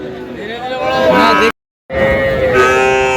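A bull calf moos loudly and close by twice, with a brief silent gap between the calls, against a busy background of crowd noise at a livestock market.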